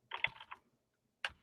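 Close, crisp keystrokes as Python code is typed on a computer keyboard: a quick cluster of clicks, a pause, then one last tap.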